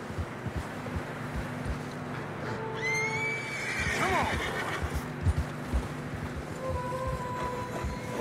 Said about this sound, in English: Horses struggling.